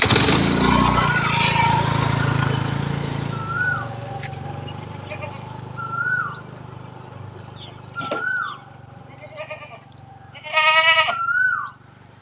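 Goats bleat several times at moderate distance on a farm in the early morning after an initial burst of noise, with a loud, wavering bleat near the end.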